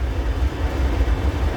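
Trains pass each other at a railway meet with a continuous heavy rumble and rolling rail noise, close and steady throughout, with no voices.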